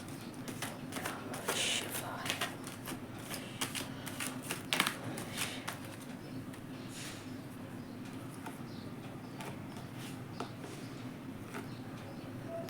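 Tarot cards shuffled by hand, producing faint, rapid papery flicks and riffles, busiest in the first few seconds and then thinning to a soft, steady rustle.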